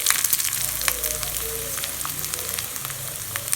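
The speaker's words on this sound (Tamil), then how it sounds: "தாளிப்பு போடகம் வச்சுருக்கேன், அது போட்டுக்கலாம்." Mustard seeds, cumin and other tempering spices sizzling in hot oil for sambar, a bright crackling hiss with scattered sharp pops, close and steady.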